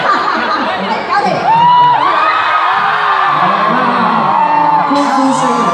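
A live audience at a Hong Kong stage show whoops and cheers loudly and continuously, with shouts and laughter rising throughout the crowd and staying strong to the end.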